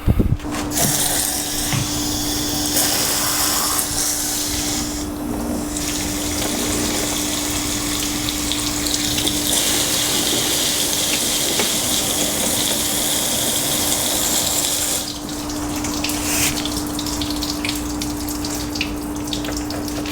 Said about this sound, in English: I'm just going to shoot water down the windshield, the cowl area right here, and the water should drip out